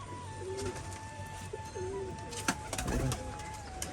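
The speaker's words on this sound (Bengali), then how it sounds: "তো দেখুন এই যে পায়রাগুলো সব এখানে ছাড়াচ্ছে।" Several pigeons coo in soft, repeated low calls outdoors while being let out of their loft, with a brief burst of fluttering wings and rustling near the end.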